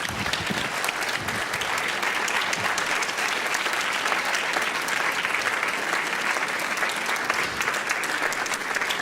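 Steady, dense applause from a church congregation at a Sunday service, continuous and fairly even throughout without any pause, with faint voices mixed in underneath.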